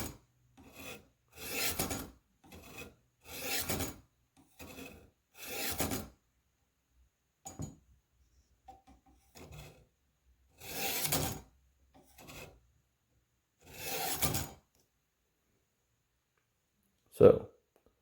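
A large, flat-sided Spyderco Police knife is drawn through a Warthog sharpener in repeated separate rasping strokes with pauses between them, close and fairly loud, ending in a sharp click.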